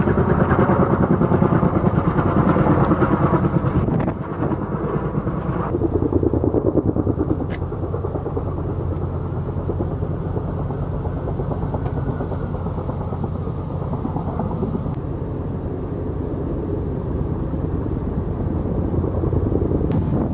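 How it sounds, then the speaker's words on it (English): Several Type 1 firefighting helicopters working the northwest edge of the Cameron Peak wildfire, a loud continuous rotor and engine roar that dips slightly partway through and then holds steady. "I got to watch several Type 1 helicopters working on the northwest edge"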